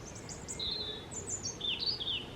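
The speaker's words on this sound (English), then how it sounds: "Oh, I do like birds singing." Several birds sing in short, bright chirps and warbling phrases outside a greenhouse, the calls spaced irregularly over a low, steady outdoor background with no talk.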